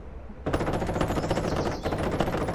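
Rapid bursts of automatic gunfire rattle continuously and loudly after a brief quiet start, dense and close, like a battle scene with sustained machine gun fire, in the video game Call to Arms: Panzer Elite.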